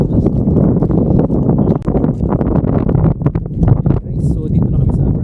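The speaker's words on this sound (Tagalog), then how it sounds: "Masyadong mahangin. May low pressure area." Strong winter wind at Abraham Lake, Canada, buffets the microphone in loud, gusty rushes throughout, with rustling mixed in and little else audible.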